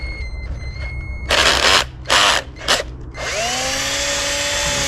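A power drill drives a screw into a plate for a DIY retractable kayak skeg: a loud close whine, then three short bursts of drilling, then a steady whirring spin-down.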